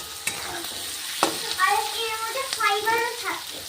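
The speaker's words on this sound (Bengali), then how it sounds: "একটু এটা ভাজা হয়ে যাক" Food sizzles and crackles steadily in a pan, with stirring scrapes and a voice chattering over it.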